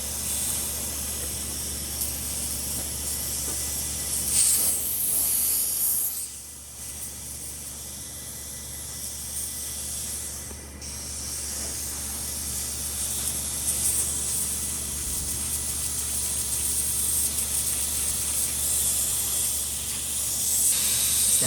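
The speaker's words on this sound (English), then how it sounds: "we're going to blow some air in here" Compressed air hisses steadily from a leaking turbo fitting on a Supra, a loud broadband rush that briefly dips and resumes, continuing almost without pause.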